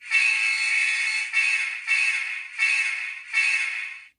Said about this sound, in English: That's 1943's horn.